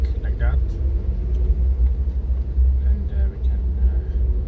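A car bearing a Norwegian flag drives along in Norway, a deep steady engine rumble close by beneath someone speaking throughout.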